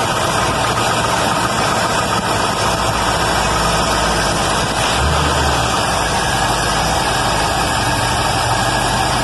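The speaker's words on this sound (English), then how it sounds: "I actually have it down to an idle that you can read on the gauge finally" A 1956 Chevy engine warms up at a slightly rough idle after a Holley carburetor rebuild, rumbling loud and steady throughout.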